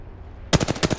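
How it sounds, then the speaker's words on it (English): Rapid automatic gunfire in the Apex Legends video game, starting abruptly after near silence as a loud, evenly spaced burst of about six or seven close shots. "Getting shot at."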